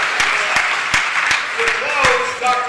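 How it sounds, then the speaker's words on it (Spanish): Applause for an honoree breaks out in a city council chamber, a moderate round of clapping with a few sharp claps standing out, and a voice speaking over it. "Vamos, aplauso para Edward C. Crabb."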